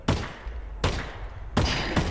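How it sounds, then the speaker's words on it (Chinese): Three loud, sharp gunshots from a handgun in a VR shooting game, fired about three quarters of a second apart with a short ring after each, and no voices. "开枪试试，把这个打爆是吧？"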